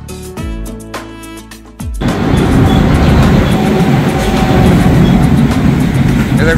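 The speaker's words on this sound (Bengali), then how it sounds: "ট্রেন" A train passes Bentota railway station in Sri Lanka. A short tonal blast opens, then a loud, steady close-up rumble of rolling wagons continues to the end.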